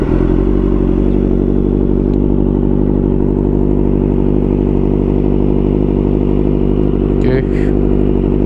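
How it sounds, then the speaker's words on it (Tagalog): A motorcycle engine idling loud and close in a steady, throbbing drone throughout, with a brief clatter and a short spoken word near the end. "So start muna natin tong motor."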